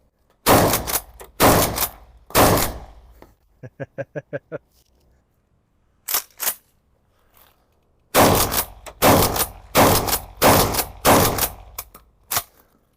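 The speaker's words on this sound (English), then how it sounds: "Shot!" Hatsan Escort shotgun firing outdoors, loud close blasts spaced about a second apart in separate volleys, with a quick rattle of smaller clicks between groups.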